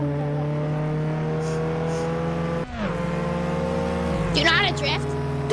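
Video game car engine droning at steady pitch while driving, then briefly dipping and climbing again as it accelerates, loud and close with a tire squeal near the end.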